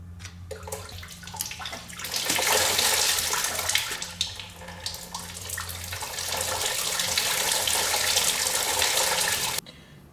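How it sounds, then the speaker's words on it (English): Water gushes and splashes loudly while rinsing a part from a BMW E38 750iL during a rust-proofing restoration, building into a steady, hissing spray for several seconds before cutting off abruptly. "Right now this is gonna be a huge splash, so prepare yourself for a nice shower."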